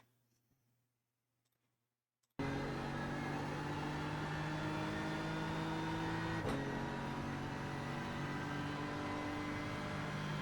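A race car at Spa comes back onto the power after an apex, with a loud, steady engine drone holding under acceleration after a quiet start, a brief click midway and no talk.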